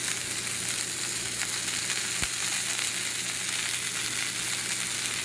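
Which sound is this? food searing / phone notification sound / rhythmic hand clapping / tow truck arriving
food searing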